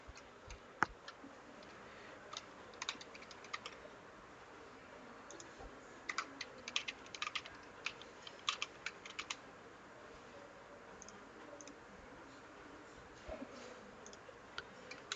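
Rapid irregular keystrokes on a computer keyboard while entering a root password during a CentOS install, steady close-up clicking in bursts with short pauses, no voices.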